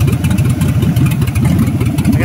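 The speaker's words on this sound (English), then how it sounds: "At the same time, the engine's running good." An old engine fitted with a one-wire alternator runs at close range with a loud, steady, pulsing clatter and uneven rhythmic firing throughout.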